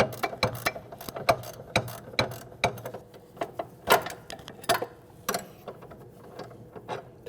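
A wrench ratchets in short, uneven bursts of close metallic clicks while loosening an 18mm nut on a front sway bar link of a 2012-2016 Honda CR-V.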